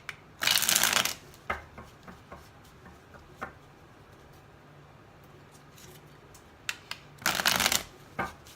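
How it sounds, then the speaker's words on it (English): Tarot cards riffle-shuffled in two loud bursts near the start and end, with scattered soft card taps and flicks in the quieter stretch between. "I apologize for shuffling the cards, but I have to shuffle the cards"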